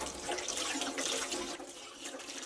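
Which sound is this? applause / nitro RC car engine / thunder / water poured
water poured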